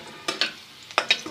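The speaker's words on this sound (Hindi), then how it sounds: "हल्का सा फ्राई करेंगे, बिल्कुल हल्का सा, ज़्यादा ब्राउन की तरफ नहीं लेके जाएंगे हम।" Garlic fries lightly in ghee for a tadka, giving a soft sizzle with a few brief stirring scrapes of a spoon in the pan, close and quiet, with no voices.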